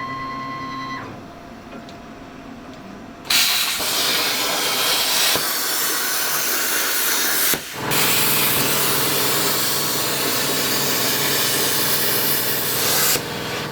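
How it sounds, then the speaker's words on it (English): A plasma table cuts metal brackets in a shop, a harsh, loud hissing roar of the cutting arc that starts after a quieter lead-in, drops out briefly mid-run, then resumes steadily before cutting off near the end. "I'm about to use our plasma table again."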